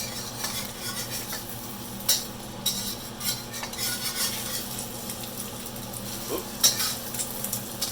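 Chicken fried rice sizzling in a pan while being flipped and stirred, a steady frying hiss broken by a few sharp scraping clanks of a utensil against the metal.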